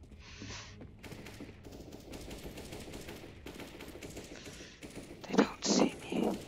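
Gunfire in the video game CS:GO, with quiet distant rapid shots throughout and a few louder, sharper bursts near the end, under low talk.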